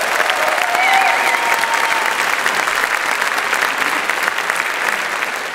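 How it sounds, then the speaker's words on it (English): Audience applauding a women's choir at a marriage-equality concert in Olympia, Washington, with dense, even clapping across the room and a faint whistle or cheer near the start. "Can we give them a great round of applause?"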